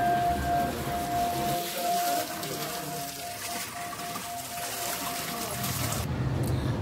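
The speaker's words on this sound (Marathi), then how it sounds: "हा जे तुम्ही बघू शकताय ते पाणी फिल्टर होऊन येते आणि ते आपण पिऊ शकतो पाणी" Filtered spring water trickles and splashes steadily at a roadside spot on a ghat route toward the Konkan coast, a continuous close wash of falling water with a faint tonal hum running under it.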